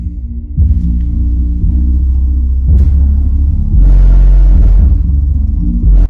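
Deep bass test tones thumping through Kicker subwoofers in a quad box powered by a SoundQubed amp, a loud sustained low rumble that shifts pitch and swells in steps, with no talk.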